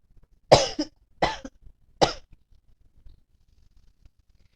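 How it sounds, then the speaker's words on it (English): Three separate dry coughs from one person, close and clear, evenly spaced against a quiet room, each a sharp burst that quickly fades. "Coughing."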